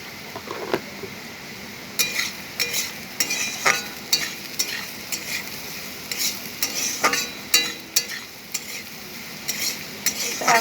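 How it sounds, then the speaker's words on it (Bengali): Turmeric and food fry gently in a pan over a low flame, giving a steady soft sizzle broken by repeated sharp scrapes and clinks of a utensil stirring against the pan. "এখন আমি হাই ফ্লেমে ভাজা করব না, একটু লো ফ্লেমে আমি ভাজাটা করে নেব।"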